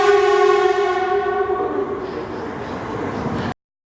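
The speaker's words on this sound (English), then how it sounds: "And here comes the Shinkansen," A Shinkansen bullet train near Mount Fuji gives a loud, sustained tonal whine with rich harmonics that slowly fades over a few seconds before an abrupt cutoff.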